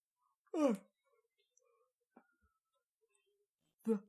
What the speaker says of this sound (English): random yawn.